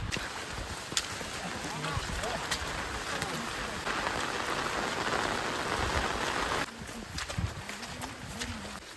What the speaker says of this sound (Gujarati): આવું ગાઢ જંગલ આવ્યું છે રસ્તામાં અને વરસાદ પણ ચાલુ છે જો.